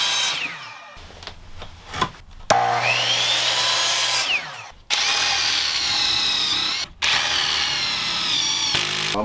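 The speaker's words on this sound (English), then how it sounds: "drilling this into here from this angle right here." A power drill bores into wood during an RV renovation in freezing weather, whining loud and close in several long bursts with short pauses between, the pitch rising and sagging as the bit bites.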